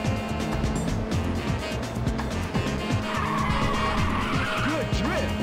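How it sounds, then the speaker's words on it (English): A video game race car in Ridge Racer on PSP drifts through a city course, its tires squealing in wavering whines over a steady engine roar that stays loud throughout. "Good drift."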